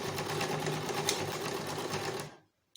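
A sewing machine stitches close along the seam of a gypsy skirt, a fast steady mechanical whir running loud and even before abruptly stopping, followed by a faint click.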